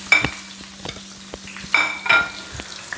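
Whole spices including crushed black pepper and cardamom seeds frying in a pan, a soft sizzle under repeated metal scraping and clinks of a spoon stirring in irregular bursts.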